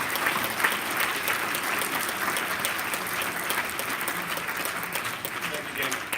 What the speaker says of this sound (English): A round of applause for these folks who organized this.